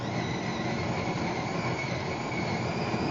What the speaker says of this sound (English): Grinds the bean, and now makes the espresso.